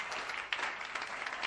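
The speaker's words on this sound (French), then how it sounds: "Donnez l'acclamation au Seigneur." Church congregation applauding during a worship service, a dense, steady wash of clapping filling the room with brief surges, no voices standing out.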